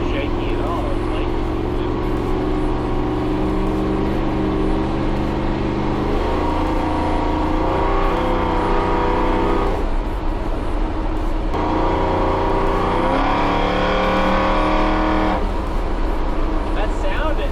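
A big-block V8 truck engine revs repeatedly, its loud, throaty roar climbing and settling in waves over a continuous drone, heard up close.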